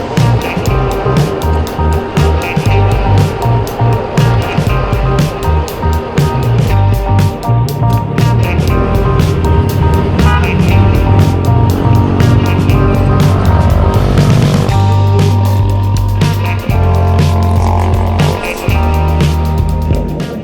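An old Honda Vario 125 scooter cruises along a two-lane highway toward Makassar, with a steady loud roar of wind and engine drone and changing road noise throughout, very close.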